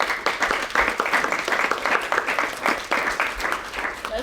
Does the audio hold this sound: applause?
yes